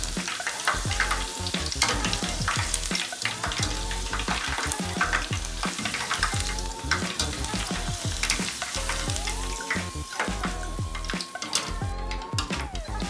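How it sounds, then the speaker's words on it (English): Onion hits preheated oil and fries, giving a loud, continuous sizzling crackle that persists throughout, with a steady musical tone audible underneath. "Now the oil is preheated enough and I'll throw in some onion for more flavor"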